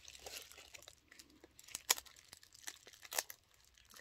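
A small paper envelope sealed with washi tape is carefully peeled and unwrapped up close, giving quiet crinkling and tearing sounds with a few sharper rips.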